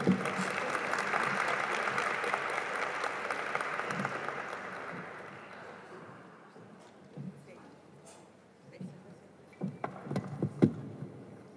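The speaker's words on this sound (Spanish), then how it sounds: "Un aplauso." Audience applause at an education research event, a broad wash of clapping that fills the first half and gradually thins out, with scattered louder claps and faint voices near the end.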